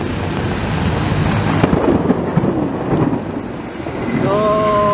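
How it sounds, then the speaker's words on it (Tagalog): A heavy, steady downpour roars continuously, with a low rumble of thunder rolling through, fairly loud and close. "Dimidilim, malakas ang ulan."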